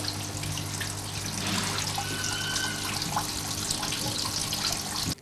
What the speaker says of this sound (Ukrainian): ліється вода.